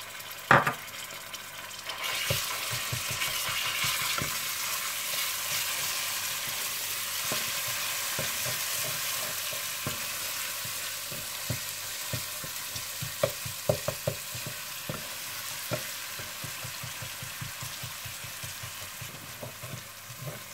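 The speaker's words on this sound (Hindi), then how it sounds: "जब प्याज हल्के से गोल्डन ब्राउन हो जाए तो आप इसमें अदरक लहसुन डालकर भून लीजिएगा" Continuous close sizzle of ginger and garlic frying in a pan, punctuated by frequent scraping taps as a spoon stirs, no voices.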